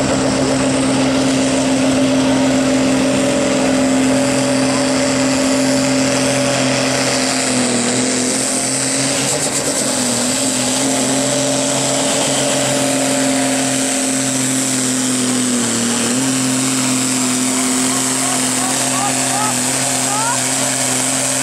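Pulling tractor in the 4.5-ton Sport class at a 2024 tractor pulling event in Putten, its engine roaring loud and constant with a steady drone that dips briefly twice, while an announcer talks over it.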